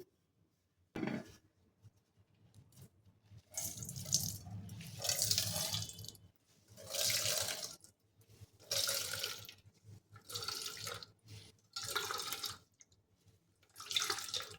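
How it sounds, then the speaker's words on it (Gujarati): Water squeezed out of food wrapped in a cloth runs and splashes in repeated bursts, each gush pouring for about a second with short pauses between, close and fairly loud with no talking. "તો હવે આપણે એને નીચોવીને જે પાણી હશે વધારાનું એ બધું જ આપણે અહીંયા કાઢી લઈશું।"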